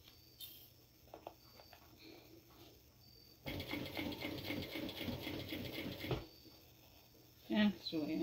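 Sewing machine stitching a Pokémon-inspired mini backpack, a quiet steady whirring run of about three seconds with brief mechanical clicks before and after, close by in a calm room.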